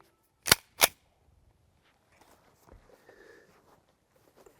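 Two sharp, loud pistol shots from a Smith & Wesson M&P 5.7 firing 55-grain rounds at a target plate, spaced about a third of a second apart, followed by faint shuffling and handling noise.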